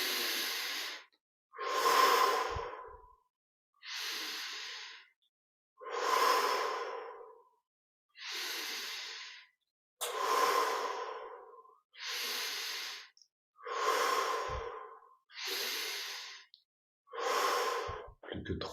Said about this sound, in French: On va reprendre 8 respirations profondes.